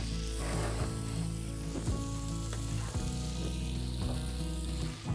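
A steak fries loudly in a hot pan with a constant, dense sizzle and crackle. Soft scraping and shifting sounds run through it, and no one speaks.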